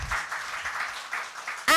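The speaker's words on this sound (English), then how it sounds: "Can we welcome her with a huge round of applause?" An audience at a literature festival event applauds an award-winning author, a brief burst of steady clapping that continues throughout.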